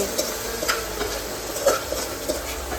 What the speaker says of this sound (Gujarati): આપણે આ રીતે વઘારીએ છીએ ફૂલ હાંડવો એક સાથે